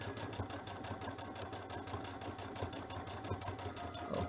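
A sewing machine stitches piping onto a quilting project along an earlier stitching line, its close, steady mechanical whir running without a break for the whole stretch.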